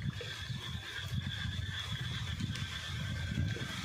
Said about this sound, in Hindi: देखिए गाइस कितनी तेज बारिश आ चुकी है